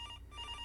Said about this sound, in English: there you go, rotary phone